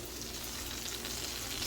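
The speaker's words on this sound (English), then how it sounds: "I'm just putting it in with the butter and frying it" Brisket pieces sizzle and fry in butter in a pan, a steady, dense crackling hiss that runs continuously and fairly loud with no pauses.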